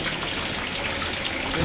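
A steady, dense sizzling crackle of Shanghai spring rolls frying in hot oil, continuous and fairly loud throughout.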